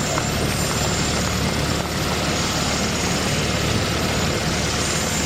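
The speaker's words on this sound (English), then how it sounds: "what we're seeing now is the turbines cooling down" Helicopter turbines spin down and cool after landing at a Vietnam War veterans' commemoration, a steady loud whine and broadband rush with no talk.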